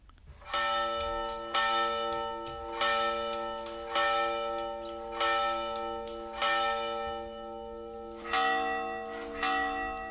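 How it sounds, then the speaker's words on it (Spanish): Church bells ring in a slow, steady series of resonant strikes, each tone lingering and overlapping the next, with a brief pause before the pealing resumes. "Tú oías las campanas."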